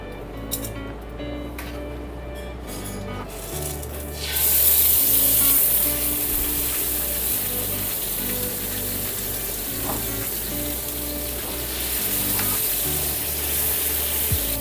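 Veal medallions searing in oil in a very hot pan, a loud, steady close sizzle that swells after a few seconds and keeps crackling without a break.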